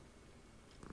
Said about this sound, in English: She's just purring.